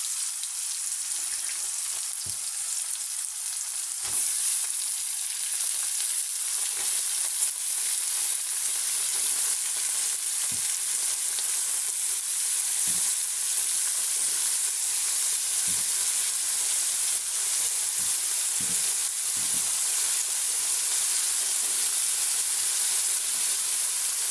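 Brinjal pieces cook with softened tomatoes in a pan for a brinjal, gongura and dried prawn curry, making a steady, even sizzle and hiss with occasional soft taps throughout.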